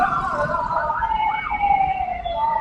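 An ambulance siren wails continuously with a rising and falling tone, steady and fairly close over road noise heard from a Vario 160 motorbike, with no talking.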